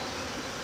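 Honeybees buzz around a beehive as they fly orientation loops, a dense, continuous drone of many wings close by, steady and fairly loud without any talk.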